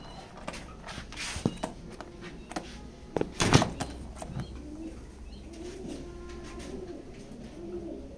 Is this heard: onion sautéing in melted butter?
no